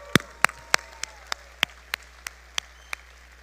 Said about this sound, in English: Let's give another huge round of applause to Danny Ryan.